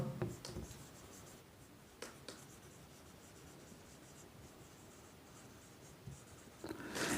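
Chalk or marker scratching across a classroom board in short strokes, with quiet pauses between bursts of writing and no talk over it.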